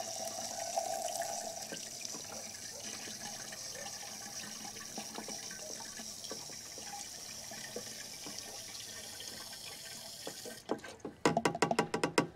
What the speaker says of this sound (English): I'm going to go ahead and wash out the cup because there's gonna be product left in.